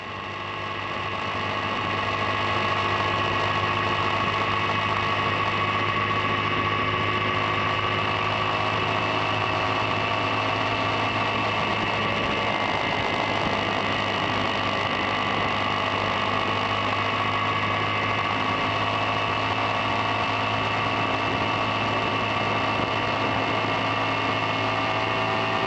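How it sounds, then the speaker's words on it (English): A Yamaha V Star 250 motorcycle engine drones steadily and loudly while climbing a highway pass. The constant hum holds for the whole stretch, with no voices over it. "this is only a 250, so it takes a little time to get back up to 100 kilometers per hour"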